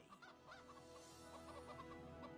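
Chickens cluck in a video game, a steady run of short, soft, overlapping clucks over a faint ambient bed, with no talking.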